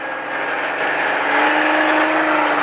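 Race car engine on the SpeedVegas track, loud and close, revving steadily upward as the car accelerates back on throttle, a sustained rising whine with no pauses.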